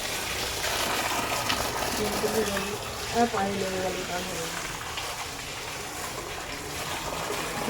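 Water runs steadily from a tap while vegetables are washed in a home kitchen, a continuous close gushing hiss with faint clinks and handling sounds over a soft voice.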